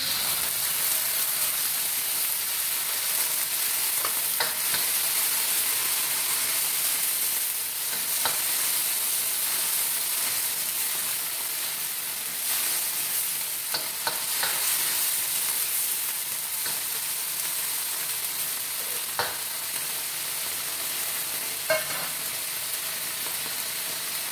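Tuna fries in a pan for lumpia shanghai, giving a steady, loud, close sizzle throughout with occasional small pops and stirring clicks.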